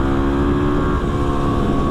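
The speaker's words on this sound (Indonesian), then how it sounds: "Motor kalau enak buat nikung tuh gini." Motorcycle engine while cornering on a road, a close, loud and steady rumbling drone over its brief span with no talk.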